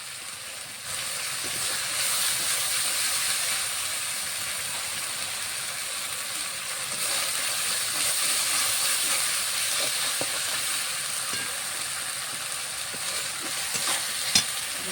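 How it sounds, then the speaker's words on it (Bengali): A paste of ginger, garlic and green chili fries in a pan with a loud, steady hiss, a continuous sizzle with faint stirring scrapes underneath. "মশলাটাকে একটু ভাজা ভাজা করে নেব"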